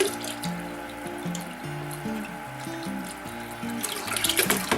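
Tap water pours steadily into a Kratky hydroponics reservoir, a continuous close rush and gurgle with shifting resonant tones as the container fills. No voices are heard.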